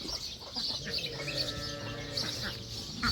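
Ducks at a farm, white domestic birds alongside black ones of three kinds, give a steady mix of nearby clucking and quacking calls from several birds at once, with no talk.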